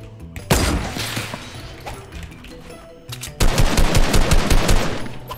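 Shotgun gunfire in a video game, heard as a burst of sharp shots followed by a dense run of rapid booming blasts, loud and close.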